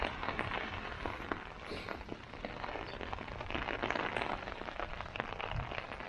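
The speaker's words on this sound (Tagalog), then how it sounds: "malakas yung ulan." Heavy rain falls outdoors in winter wind, a constant hiss of drops on surfaces with scattered sharper patters, fairly close and steady throughout, with no talking.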